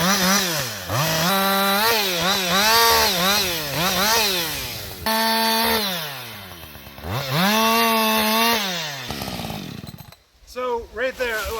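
A chainsaw on a sawmill rig cuts through a timber log, its engine revving in long, steady pitch-rising and falling strokes at close range, with a brief drop and sputter near the end.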